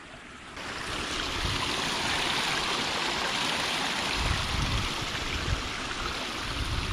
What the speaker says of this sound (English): with this water flowing off down this bank